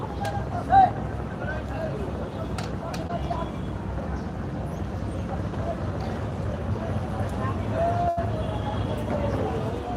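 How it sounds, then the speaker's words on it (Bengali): Small wooden dinghy boats ferrying people across the Buriganga river, with a steady hum of water and boat activity, scattered knocks and clatter, and a busy riverside murmur of distant voices. "ছোট ছোট ডিঙ্গি নৌকা মানুষ পারাপার হচ্ছে"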